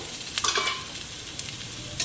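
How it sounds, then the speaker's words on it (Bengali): Drumstick leaves fry in a pan with garlic, green chilli, salt and turmeric, giving a faint, steady sizzle with a few brief stirring scrapes near the start, and no talking. "রসুন কাঁচা লঙ্কা দিয়ে ভেজে নেব লবণ হলুদ দিয়ে দিলাম"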